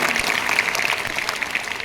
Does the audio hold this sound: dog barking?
no